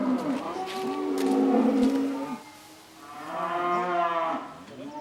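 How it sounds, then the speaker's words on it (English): Cattle in a farm barn give two long, deep moos, one after the other, loud and close, with no talking over them. "The cows are all nice and cozy in the barn."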